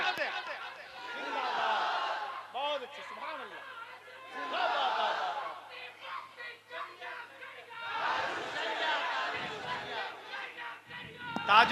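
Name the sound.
crowd shouting a response at a religious gathering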